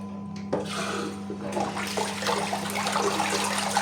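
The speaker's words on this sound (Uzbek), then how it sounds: "Unitaz." A toilet flushes in a bathroom under renovation, water rushing and gurgling loudly after a sharp start, with a steady low hum running underneath throughout.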